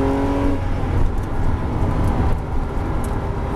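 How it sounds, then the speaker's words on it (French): A Porsche GT3 pulls hard on a race circuit, its engine roaring loud and steady from close inside the car, with no talk over it. "Et accélère. Accélère, ça passe. Allez, gaz."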